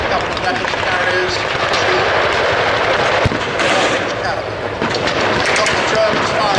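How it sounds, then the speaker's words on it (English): Mortars fired by German troops at a WW2 battle re-enactment at the War and Peace Show in England, heard as a sharp thump amid constant crowd, engine and battle noise with an announcer talking over it. "the Germans firing mortars now on this side of the arena"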